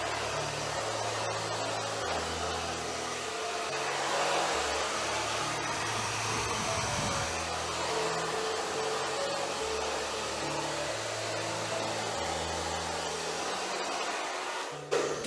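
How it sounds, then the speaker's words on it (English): A hair dryer blows steadily on a cool setting through a long-hair blow-dry, a loud continuous airy roar with a low motor hum that holds for about fifteen seconds and cuts off briefly at the end. "I will go and cool it down directly and then continue the blow dry"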